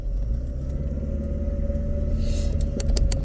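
Cars driving past outside on a local street, a steady low engine and tyre rumble throughout with a slightly louder pass near the end, no talk.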